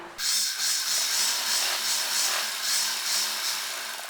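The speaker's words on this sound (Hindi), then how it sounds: "अब हम यहाँ पर सिलाई लगा लेंगे" A sewing machine stitches cotton-style fabric on a crop top hem, making close, rhythmic whirring bursts in an even repeating pattern.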